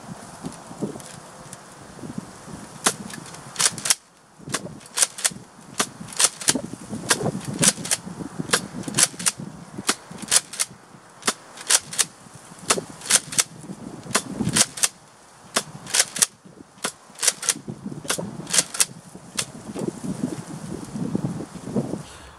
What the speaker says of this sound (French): j'ai tiré les blanches avec le rétaliateur et les bleus avec le Delta Trooper